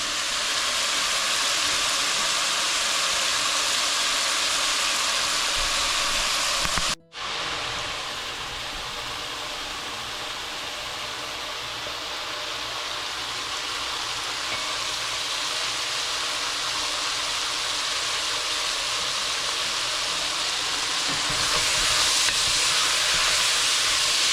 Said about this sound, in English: I want a good sear on it, so I'm trying to get it as hot as possible.